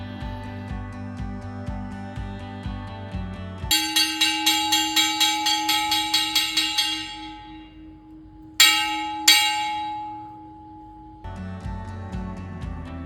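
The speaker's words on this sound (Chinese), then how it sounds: "在这里听听一些钟声" Temple bells ring at a temple in western Vietnam: a quick series of metallic strikes, then two loud single strikes that ring out and decay, over a rhythmic background pulse. No talk.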